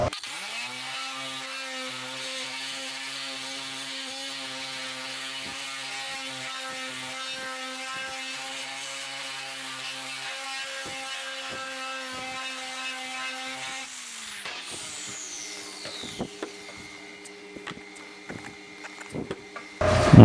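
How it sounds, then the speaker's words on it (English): A shrinking disc spins against a sheet metal patch panel with a steady, high whining hum for about fourteen seconds, then winds down into scattered scraping, rubbing and metallic knocks. "now we're going to hit it with the shrinking disc"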